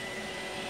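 A Roomba robot vacuum runs indoors with a steady, faint whirring hum that stays even and unbroken throughout.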